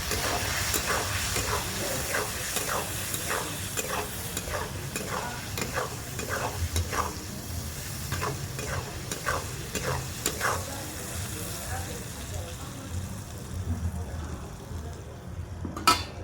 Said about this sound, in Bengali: দেখি পটলটা লাল লাল করে ভেজে নেই।